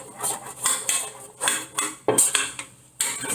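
Metal pizza pan for a Chicago-style crust scraped and tapped while olive oil and flour are spread across it, a steady series of close, bright scraping strokes with short pauses and a sharper knock near the middle.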